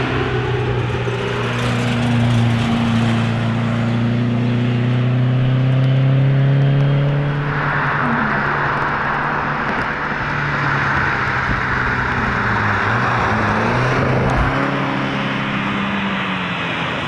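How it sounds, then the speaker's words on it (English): A Porsche 924 on a road rally, its engine holding a steady, loud drone that rises and falls in pitch as it accelerates and shifts, with road and wind noise continuous throughout. "924s are great for road rallies."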